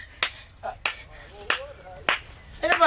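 Sharp, isolated hand claps in a Maithili comedy skit, about five crisp slaps spaced irregularly across a few seconds, close and loud, with a voice speaking in between.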